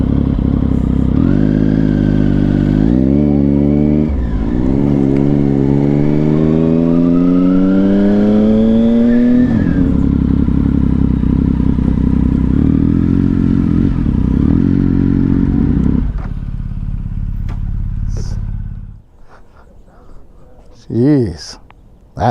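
A Yamaha R7 motorcycle revs and accelerates close by, its loud engine note climbing through several gear pulls before dropping away and fading out, followed by quieter sounds near the end.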